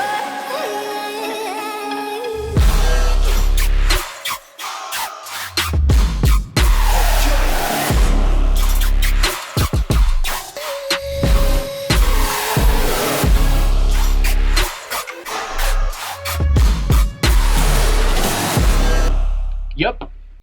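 Second drop of an electronic track, with heavy 808 bass and drums kicking in loud after a quieter intro, punchy rhythmic hits and added ambience, cutting off near the end.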